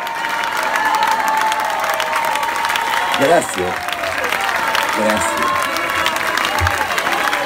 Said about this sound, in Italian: vieni qua davanti a prenderti l'applauso